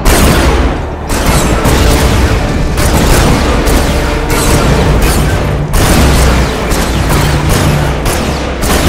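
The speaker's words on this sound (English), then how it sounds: "Order your men to destroy the structure." Zone troopers in Command and Conquer 3 tear down a damaged building with heavy weapons fire: loud, dense booms and crackling blasts in repeated waves, near and continuous, with no talking.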